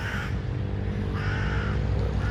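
Crows cawing on a street in Fort William, Scotland, early in the morning with little traffic: a couple of loud, harsh caws near the start and middle over a steady low hum of the town.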